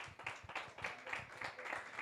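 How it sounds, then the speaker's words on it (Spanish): A church congregation claps steadily in a continuous round of applause, fairly faint and distant, with no voices standing out. "Dale un aplauso a la palabra de Dios"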